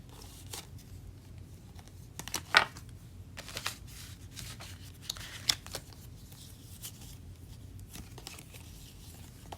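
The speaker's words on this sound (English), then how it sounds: "Let me clean these cards up" Tarot cards are shuffled and tidied by hand, giving brief riffling flutters and soft taps at irregular moments against a quiet room background.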